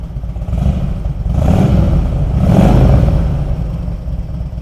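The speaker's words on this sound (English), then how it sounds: "Let's give it a rev." A 1999 Harley-Davidson Road King Classic (FLHRCI) engine idles with a deep lumpy rumble, then is revved twice in quick succession, each swell rising and falling close by with no talk.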